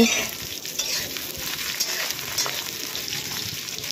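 Onions sizzle and fry steadily in hot oil in a pan after small fish have been fried, a close, continuous crackling hiss with faint stirring, no talking.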